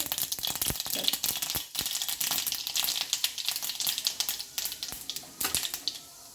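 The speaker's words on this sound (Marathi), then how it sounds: "इकडे मी कढई ठेवलेली आहे त्यामध्ये आपण दोन चमचे तेल घालून घेतलेलं आहे तेल छान तापलं आता आपण त्यामध्ये मोहरी घालून घेणार आहोत जिरं" Mustard seeds and cumin hit two spoons of hot oil in a kadhai (wok), setting off dense, close sputtering and crackling pops that keep going steadily without a break.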